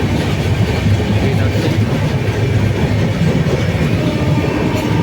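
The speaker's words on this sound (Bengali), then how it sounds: "ট্রেনের কামড়াটাকেও দেখিয়ে দিচ্ছি ট্রেনের কামড়া আমাদের" Passenger train running on rails, heard from inside a coach: a loud, steady rumble with continuous clickety-clack of wheels on track, close and unbroken, no talking.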